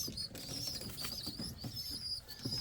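Indian fantail pigeons cooing at close range, soft low murmuring coos repeating in an uneven rhythm with faint chirps and rustling, no talking.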